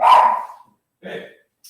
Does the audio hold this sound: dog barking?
yes